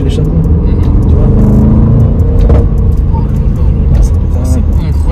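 Range Rover Sport SVR engine and exhaust rumbling loudly and steadily with revving surges, heard from inside the car while someone talks over it.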